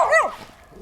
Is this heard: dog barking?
yes